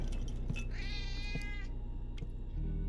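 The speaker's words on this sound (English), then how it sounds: "Got a hungry cat." A hungry cat gives one drawn-out, wavering meow, loud and close, against a steady low rumble of background noise, with a few short clicks around it.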